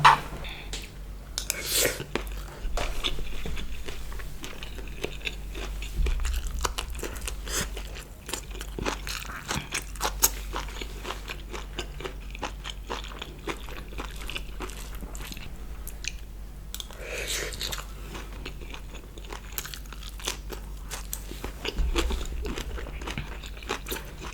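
Someone eats rice with fish and chili fish sauce close to the microphone, with soft, steady chewing and occasional crunchy bites and moist squishes, interrupted now and then by faint whispers.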